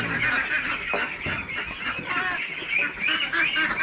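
Ducks on a duck farm call in a busy, continuous chorus of nasal honks and quacks, several birds overlapping at close range with no pauses.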